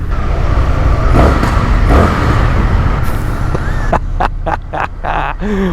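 An Indian FTR1200 motorcycle engine roars loudly and continuously as it passes through a tunnel, ending in a string of sharp cracks and pops on the overrun, close and reverberant.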